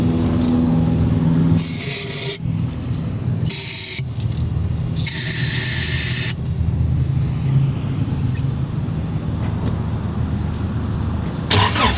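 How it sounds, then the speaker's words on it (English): Brake cleaner sprays in several sharp hissing bursts of a second or so each, heard over a loud, steady engine or traffic rumble in a parts store parking lot. "When in doubt, brake clean it out."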